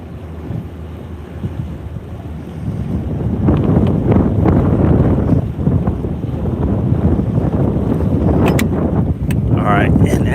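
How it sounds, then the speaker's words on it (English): Wind buffeting the microphone while out on a bass boat, a loud, steady rumbling roar that grows stronger partway through and carries on with a few brief higher sounds near the end. "Now you'll start hearing the wind in just a second"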